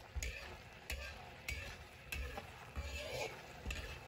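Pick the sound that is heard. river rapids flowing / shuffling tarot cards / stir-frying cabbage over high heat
stir-frying cabbage over high heat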